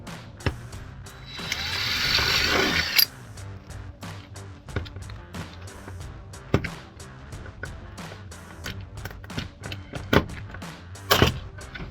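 A plastic clip on a 2010-2013 Camaro SS V2-style chin spoiler snaps into place with a crisp, close pop. Before it come a quiet stretch of scraping and flexing and many scattered small clicks and taps.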